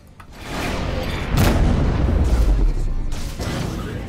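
Incoming missiles striking a spaceship in the space combat game Rebel Galaxy: a swelling rumble builds into a heavy booming impact around the middle, followed by sustained low explosive roar and a second burst near the end, with faint talk underneath.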